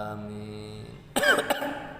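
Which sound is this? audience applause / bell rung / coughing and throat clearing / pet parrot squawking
coughing and throat clearing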